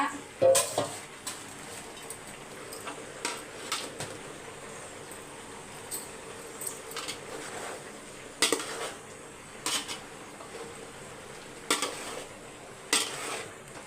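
Brinjal being added to a cooking pot and stirred, heard as repeated clanking of a metal spoon against the pot with faint sizzling, irregular knocks spread across the whole stretch.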